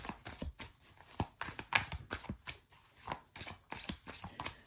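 Brisk, rhythmic riffling and tapping of tarot cards being shuffled by hand, close and steady with no talking.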